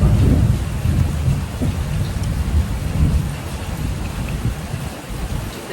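Steady rain with rumbling thunder, a dense low roar of falling water and wind carrying on throughout, no voices present.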